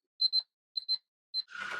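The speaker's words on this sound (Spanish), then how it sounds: "Es muy probable que hayan escuchado mi alarma." A timer alarm goes off after five minutes during a hybrid sculpture workshop, giving three quick pairs of high electronic beeps, clear against silence, followed by a short burst of rustling noise.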